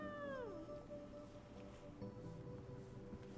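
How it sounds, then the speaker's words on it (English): A kitten named River meows and whines in drawn-out, complaining cries, a sliding wail followed by quieter mewing, heard faintly and close against a soft background with no talking. "Do you hear this complaining kitten?"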